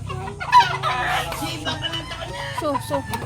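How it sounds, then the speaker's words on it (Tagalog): Fighting cocks and a flock of chickens cluck and squawk close by, with a rooster's crow mixed into the flock noise and faint voices in the background. "may mga manok pong panabong"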